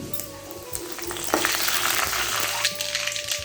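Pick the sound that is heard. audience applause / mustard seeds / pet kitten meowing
mustard seeds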